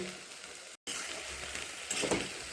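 Malabar spinach (pui shaak) frying in a pan on a gas stove, a steady close sizzle with a brief dropout partway through and a slightly louder crackling swell near the end, with no voices.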